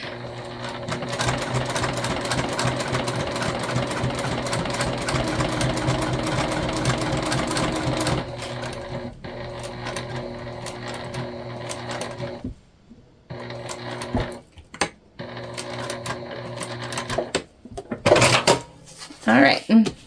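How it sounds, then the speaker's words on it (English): A sewing machine back stitches on a spooky ghost raw-edge pattern, running in a fast continuous whir for about eight seconds, then stopping and restarting in short bursts with clicks between them. "I am back stitching"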